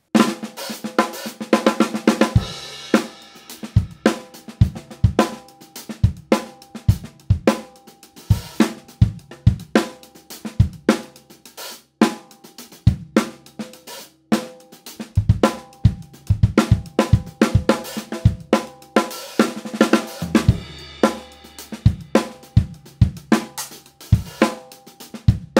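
Funk drum groove on a kit mixing soft ghost notes with accented backbeats into longer varied phrases, steady rhythmic hits of cymbals and snare played alone, close and clear throughout.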